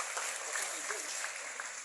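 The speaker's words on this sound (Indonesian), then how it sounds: "Tepuk tangan buat Kak Billy." Applause from an audience at an Indonesian youth gathering, a steady patter of clapping hands lasting just under two seconds.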